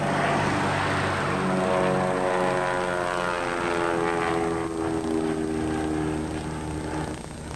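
A propeller airplane in Alaska drones steadily overhead, loud and continuous, its engine tone shifting slightly as it passes, with no voices.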